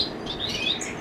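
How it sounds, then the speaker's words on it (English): Pet birds in a home bird room of about 85 birds make a soft, continuous high chirping chatter, several tweets overlapping at low volume without any talk. "We're looking at Liz's and Jess's bird room."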